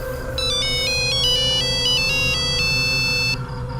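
A phone ringtone plays a bright, repeating electronic melody for several seconds over a steady low hum, then cuts off.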